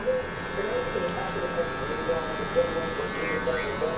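Electric hair clippers buzzing steadily while fading down a low taper haircut, a close, continuous hum with slight shifts as the blades move, under quiet speech.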